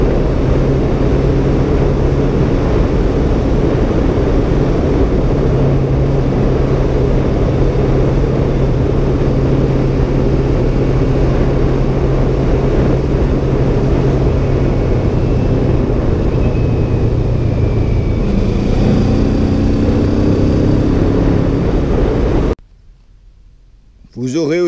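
A 2017 Kawasaki Z650 motorcycle engine drones steadily while riding, loud and continuous with a constant low hum, before cutting abruptly to near silence close to the end.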